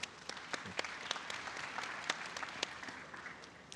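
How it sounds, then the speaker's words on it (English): An audience at a business forum on the future of money in Africa and Dubai claps for a newly introduced panelist, moderate and scattered with sharp individual claps over a steady patter. "Give them a round of applause, please."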